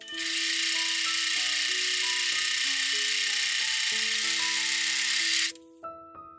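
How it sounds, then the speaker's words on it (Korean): An overlock serger runs steadily for about five seconds while hemming a fabric waistband, giving a loud, continuous mechanical whir that cuts off abruptly, followed by a brief quieter stop. "나머지 웨이스트밴드를 가지고 와서 밑단을 오버로크 해줍니다."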